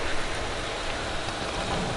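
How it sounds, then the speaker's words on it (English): Steady rain in Farming Simulator 22, a dense, even wash of hiss and patter at moderate level with no distinct drops or thunder, heard alone. "Oh, it's raining now."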